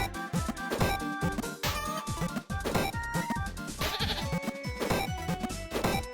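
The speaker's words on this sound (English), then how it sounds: "Cute little goat." A goat bleats repeatedly within a horror video game, its cries coming in close, loud bursts over a busy layer of game music and effects, with no talking.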